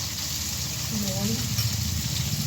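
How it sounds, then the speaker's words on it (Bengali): Potatoes and onion fry in a pan with salt and turmeric, giving a steady, close crackling sizzle with faint stirring scrapes while a voice talks over it. "সামান্য হলুদ দিয়ে আলু পেঁয়াজটা খুব ভালো করে ভেজে নেব।"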